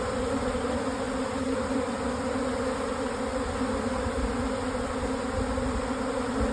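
A honeybee swarm hums steadily around a nuc box, a dense, even drone of many wings held close and constant throughout with no pauses.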